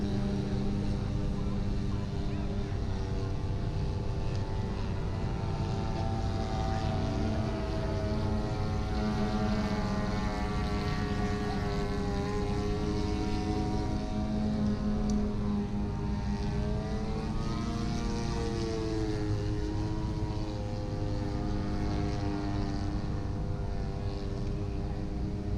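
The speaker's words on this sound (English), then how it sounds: "The yellow airplane that's flying up here," A yellow World War I era warbird propeller airplane drones overhead, a steady rumbling engine tone rising and falling in pitch as it passes, continuous for the whole stretch.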